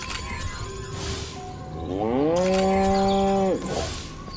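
A cow in the Destroy All Humans video game gives one long, loud, drawn-out moo over quiet game ambience, with brief game sounds around it.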